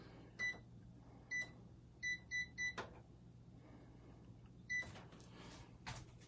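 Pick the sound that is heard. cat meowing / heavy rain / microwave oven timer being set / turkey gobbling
microwave oven timer being set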